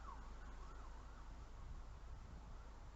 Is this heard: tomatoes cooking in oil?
no